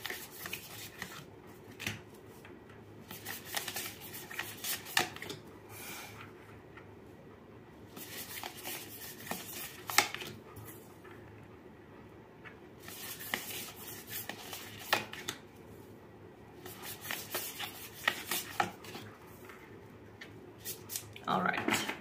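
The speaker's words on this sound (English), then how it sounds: "I'm just going ahead and shuffling the cards" Tarot cards are shuffled close up in soft riffling and rubbing bursts, recurring in several spells while a person talks.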